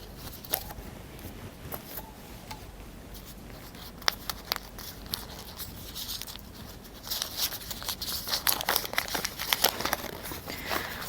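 Oil paper wrapped around a valve assembly crinkles and crackles as the package is unrolled, a faint, close, irregular rustle with scattered sharp ticks that grows busier toward the end.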